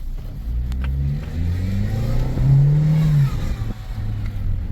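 Car on a road test with a transmission ratio fault, its engine revving and a rising, falling whine as it accelerates beside a building that amplifies the sound, close and steady with no talk.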